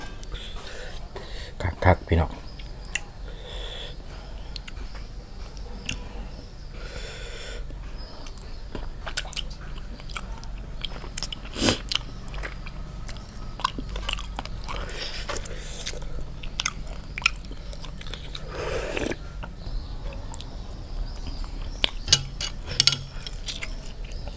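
Gnawing and chewing on cooked frog from a sour frog soup with big egg-filled field frogs: close, wet bites and squishy chewing with occasional crunches and cutlery clinks, while people talk at times.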